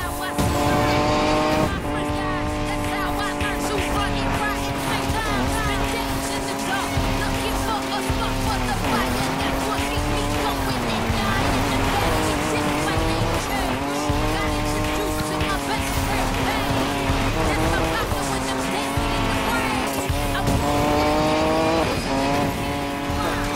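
Racing car engines roar and tires squeal during a Need for Speed Payback race, a loud, continuous stream of revving whine and skidding with shifting pitch, with a player talking over it at times.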